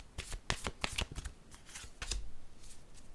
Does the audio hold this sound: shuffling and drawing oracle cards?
yes